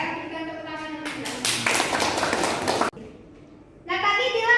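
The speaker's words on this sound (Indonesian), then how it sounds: "Kita tepuk tangan untuk Dila." A classroom full of students claps for a classmate during a graphic design lesson, a dense burst of applause lasting about two seconds, with speech before and after it.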